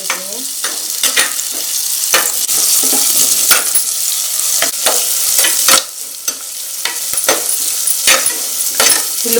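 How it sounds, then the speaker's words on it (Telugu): Chopped onions fry in hot oil for a fish curry, a loud close sizzle broken by repeated sharp clacks of a spatula stirring the pan, no talk. "ఇక్కడ ఆయిల్ కరిగాక ముందుగా కట్ చేసి పెట్టుకున్న ఉల్లిపాయలు వేసేసుకోవాలి ఇప్పుడు ఫ్రై చేసుకోవాలి"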